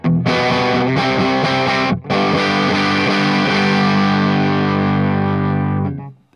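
A PRS SE CE 24 electric guitar plays a low gain, mildly distorted tone, strummed chords ringing out with a brief gap before a final sustained chord that fades.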